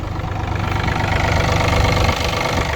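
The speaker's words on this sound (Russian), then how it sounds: "работает настолько мягко и четко, как я, наверное, никогда не слышал в экскаваторах" A Yanmar VIO30 mini excavator's diesel engine idles loudly up close, a steady low throbbing rumble that stays even throughout.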